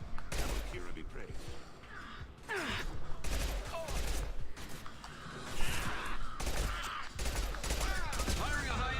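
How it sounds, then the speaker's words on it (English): Repeated gunfire bursts and impacts from the Mass Effect 2 video game, loud and sustained across the whole stretch, with combat effects and character voices mixed in. "Firing a high impact shot."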